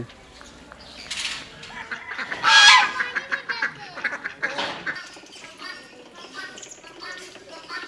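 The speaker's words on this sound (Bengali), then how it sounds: "জলে অনেক হাঁসও ছাড়া আছে।" A flock of ducks on the water near Pelling, Sikkim, quacks and honks in loud, overlapping bursts that peak partway through, then break into scattered calls.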